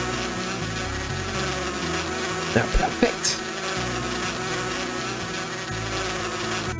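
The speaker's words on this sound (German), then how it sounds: "Fliegt hinfort, kleine Bienen" Bees in the Erben der Erde video game buzz in a steady, dense drone over a low background tune, briefly interrupted by a few short clicks and a quick spoken reply in the middle.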